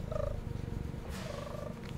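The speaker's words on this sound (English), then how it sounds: "And my cat's saying hello to everybody" A pet cat purring close to the microphone, a soft rhythmic rumble pulsing steadily over about two seconds, with a faint whine near the end and no talk.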